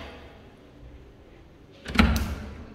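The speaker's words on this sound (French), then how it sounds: "Là-bas, là, par contre, il faut qu'il ouvre la porte." A door in a large villa bedroom opens with a brief burst of handling and a thud near the end, close and fairly loud, after a quiet stretch.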